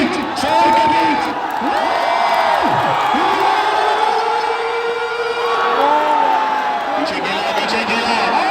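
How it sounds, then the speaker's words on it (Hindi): Spectators at a local cricket tournament semifinal roar and whoop in a loud, sustained crowd din with rising and falling shouts, while a commentator talks over the noise. "सरताज तालियों के बीच, शोर के बीच"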